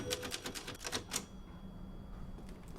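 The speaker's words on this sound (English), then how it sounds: "Look at that typewriter." Typewriter keys clatter in a quick burst of about eight sharp strikes within a Resident Evil Village game scene, then the sound stops, leaving a low steady background hum.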